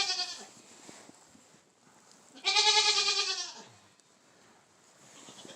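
A goat in a barn gives a loud, drawn-out bleat in the middle, with fainter bleating and quiet shuffling before and after.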